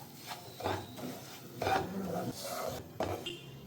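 Semolina roasting in ghee in a pan after cashews and raisins were fried, with a spoon stirring and scraping in several soft, quiet strokes.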